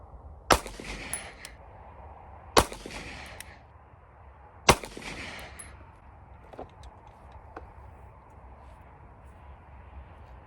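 A Taurus TH9 pistol fires Freedom 135 grain round nose flat point rounds at a shooting range: three sharp, echoing shots about two seconds apart, followed by quiet range ambience.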